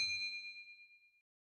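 A single bright notification bell ding rings out clearly and decays smoothly over about a second into silence, alone with no voices.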